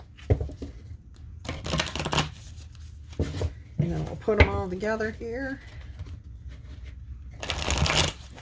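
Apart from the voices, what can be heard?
shuffling a deck of cards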